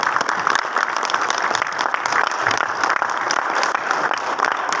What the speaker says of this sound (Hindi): सबके लिए जोरदार तालियां हो जाए प्लीज सर।